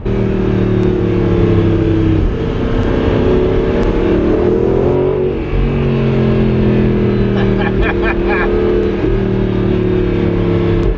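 A Lamborghini V8 engine revs with a deep, loud rumble that rises and dips, punctuated by a few sharp crackles and pops toward the end, close to the microphone.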